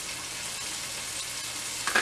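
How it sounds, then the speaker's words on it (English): Steady broadband sizzling of ground beef frying in a pan with adobo seasoning, constant and close, with a brief louder crackle near the end. "We're gonna add some adobo. You can hear it sizzle."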